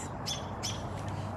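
An American robin squawks twice in quick, harsh bursts against a steady outdoor background hum, fairly close and with no voices.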